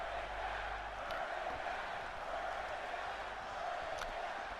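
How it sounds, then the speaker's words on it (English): Crowd cheering in the WWE 2K20 wrestling video game during a Raw match featuring Seth Rollins, a steady dense roar of arena noise that holds throughout with a couple of brief sharp accents. "The crowd is cheering for Seth Rollins"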